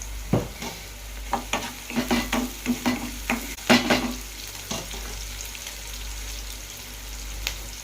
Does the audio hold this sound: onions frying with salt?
yes